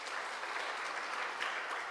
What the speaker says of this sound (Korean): 박수 한번 해주시죠.